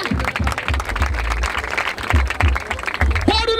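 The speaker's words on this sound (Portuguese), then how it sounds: "Palmas pra essa batalha!" After a rap battle at Batalha da Aldeia in Barueri, the crowd applauds and cheers loudly beneath a host shouting over a booming microphone, with a voice rising near the end.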